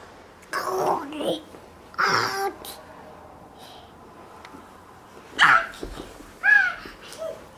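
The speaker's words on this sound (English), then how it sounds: "That's your doggy." A few sharp dog barks in short bursts, spaced apart, fairly close, with a quiet room hum between them.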